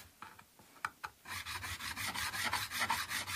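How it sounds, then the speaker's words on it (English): A few separate scrapes, then steady back-and-forth rasping as metal guitar frets on a Stratocaster copy are sanded and polished, close up and fairly quiet. "the fret reprofiling, the reshaping part, and then the sanding or polishing of the frets"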